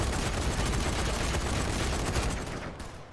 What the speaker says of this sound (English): Panzerschreck, make machine go kaboom!